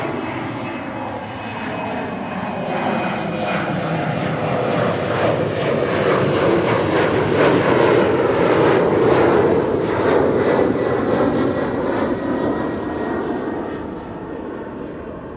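A German Airways airliner takes off from runway 24, the Kaagbaan, at Amsterdam Schiphol with a steady engine roar that builds, holds loud through the middle and gradually fades as it climbs away.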